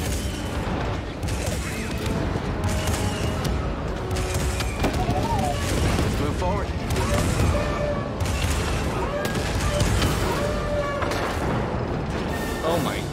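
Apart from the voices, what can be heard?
AT-ST cannon firing, Star Wars Jedi: Fallen Order video game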